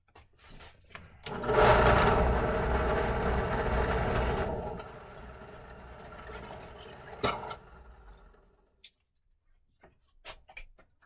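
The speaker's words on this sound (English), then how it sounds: "What we'll do is we'll drill 2 of the holes." A power drill bores holes in a build-season workshop: a loud motor whine runs for about three seconds, then continues at a lower, quieter level before stopping, with a sharp click in between and small knocks after.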